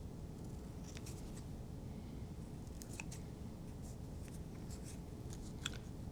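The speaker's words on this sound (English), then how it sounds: "I'm going to go ahead and trim those so they're even." Scissors snip the ends of crepe paper being trimmed for a paper larkspur flower, a few quiet, brief clipping sounds scattered over steady low background noise.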